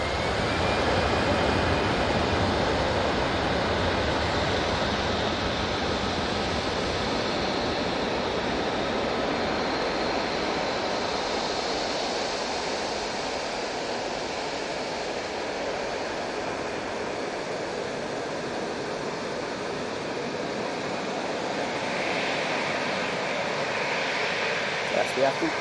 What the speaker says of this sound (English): we have the Etihad 777 coming in from Abu Dhabi